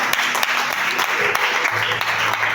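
A church congregation applauds and cheers in a steady, dense wash of clapping that fills the space, with voices mixed through it.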